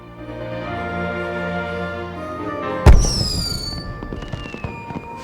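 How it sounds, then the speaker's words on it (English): Festival fireworks in the MapleStory video game: a sharp, loud burst cuts through a sustained tonal backdrop, followed by whistling, descending streaks and scattered crackling pops that fade away. "Adele, those are fireworks from the festival."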